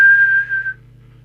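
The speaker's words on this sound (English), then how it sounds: "I'll just give it the whistle test first." A single steady whistle held into a CB radio microphone during a transmit test on a Sapphire X4000 UK 27/81 mobile rig, loud and clean for under a second over a low electrical hum.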